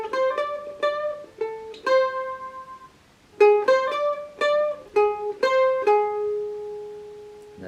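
A mandolin plays a riff of clear plucked single notes and short bursts, a quick phrase, a brief pause, then the phrase repeated and ending on a held note, close and unaccompanied.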